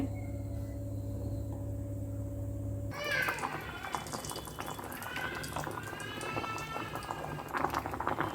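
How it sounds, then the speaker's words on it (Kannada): Kolluru temple-style huli, a South Indian lentil and vegetable stew, bubbling in a pot, with a steady low hum that gives way after a few seconds to close, continuous busy boiling and popping. "ಇವಾಗ ಆಲ್ಮೋಸ್ಟ್ ಟೆನ್ ಟು ಟ್ವೆಲ್ ಮಿನಿಟ್ಸಿಂದ ಇದೇ ಥರ ಕುದೀತಾ ಇದೆ"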